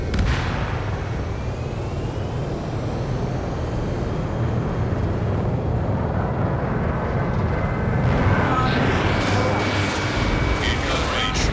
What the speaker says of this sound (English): They have more aircraft. More planes incoming.